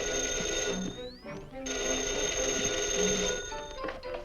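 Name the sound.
telephone ringing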